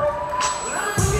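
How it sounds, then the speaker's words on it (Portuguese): Audience at an IFBB São Paulo bodybuilding contest, senior up-to-100 kg category, cheers and whoops in a brief, loud burst of crowd noise. "Ação, pousando amigos, para os aplausos do público."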